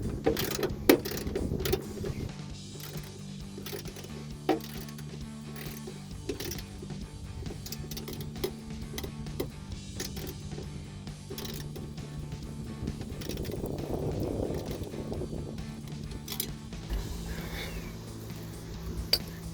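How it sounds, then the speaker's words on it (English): Quiet clicking of a ratchet tightening an exhaust hanger bolt on the sidewall of a 2005-2010 Mustang V6 during a C&L axle-back exhaust install, soft and close, repeating in small bursts with little else around. "Since I can get my ratchet in there nicely."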